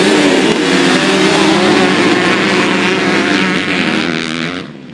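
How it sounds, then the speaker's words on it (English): Motocross motorcycles roar on a race track at the Wailua track on Kauai, a loud, sustained engine drone with revving that fades slightly at the end. "Now let's head out to the Wailua Motocross track for the KMXA July races"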